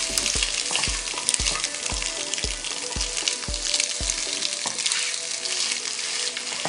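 Egg samosa filling sizzles and fries in a hot pan while a spoon stirs it, giving a steady run of rhythmic scraping knocks over continuous frying hiss, close and fairly loud with no talk.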